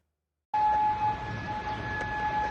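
Air raid sirens wail across Kuwait during a missile attack, a steady sustained tone starting abruptly after half a second of silence and holding loud and even over distant background noise.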